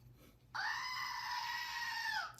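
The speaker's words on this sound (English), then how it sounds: "We need a Willie scream on this one." A Wilhelm scream sound effect cuts in sharply, a loud sustained shrill scream lasting nearly two seconds over a quiet background before ending abruptly.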